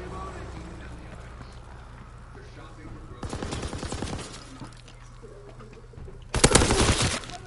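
Automatic gunfire in Call of Duty WW2 online multiplayer, two loud rapid bursts of shots rising over low game ambience, one in the middle and a second, louder one near the end.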